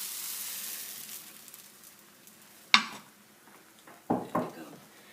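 Galette batter hitting a hot pan, a sharp sizzle burst followed by two quick sizzling clatters as the pan is tilted to spread it, close and fairly loud over a quiet background.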